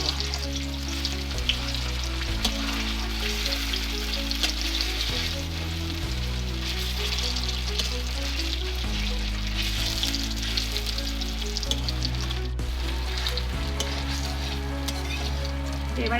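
Pieces of chhana, an Indian cottage cheese, fry in oil in a pan with a dense, steady crackling sizzle that continues throughout, while music plays underneath.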